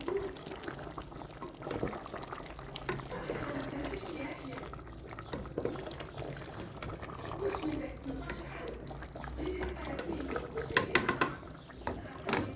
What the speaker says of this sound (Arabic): دابا غادي نروي بالماء سخون